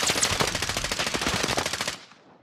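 Rapid automatic gunfire in a video game, a loud, steady string of rattling shots for about two seconds that then stops abruptly, leaving a brief fading tail.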